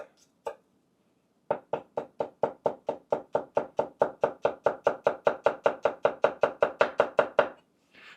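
A knife chops straight down through a shallot on a cutting board in a fast, even run of about two dozen crisp taps after a single early cut, close and clear with no voices.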